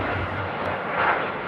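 An airliner takes off at Amsterdam airport, its engines a broad, steady roar that swells slightly toward the end.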